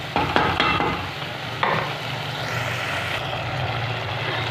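Potatoes and capsicum sizzle steadily in a pan as they cook, a continuous close frying hiss with a few scraping stirs near the start and no talking.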